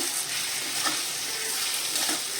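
Marathi vangyache bharit, a mash of eggplant with onion, spices and fresh coriander, is mixed in a hot pan. A loud, steady sizzle fills the clip, with soft stirring scrapes and no talking.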